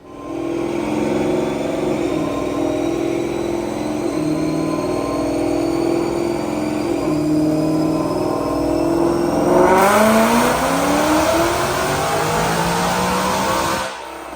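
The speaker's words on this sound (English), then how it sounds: "right now, check out this dyno pull" A 2018 Mustang GT with a Whipple supercharger, automatic transmission and E85 fuel runs at 17 psi boost on a dyno: a loud, sustained engine roar climbs through the revs, with whine rising over it, then drops off sharply at the end.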